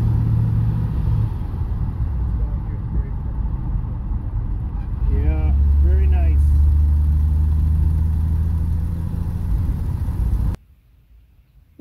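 A 1937 Plymouth Coupe cruises at about 45 with a steady low engine and road rumble, someone talking briefly over it, before the sound cuts out near the end.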